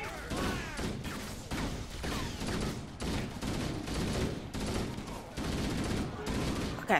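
Repeated bursts of weapon fire in Halo: Combat Evolved, rhythmic volleys of shots roughly every half second with crashing impacts, fairly close and steady, with a player's voice occasionally under them.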